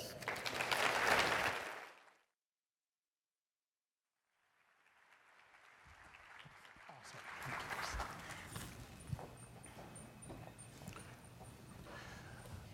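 Audience applause in a luncheon hall greets an announced guest, a loud burst of clapping that ends abruptly, followed after a silent gap by steady crowd murmur and scattered noise.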